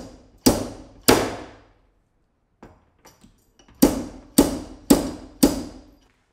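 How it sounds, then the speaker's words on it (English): Slide hammer yanking a glued tab to pull a dent from a BMW Alpina B7 car panel, giving sharp metallic clacks: two early strikes, a few faint taps, then four evenly spaced hard knocks close by. "special hot glue is used in combination with a slide hammer to pull out the dent"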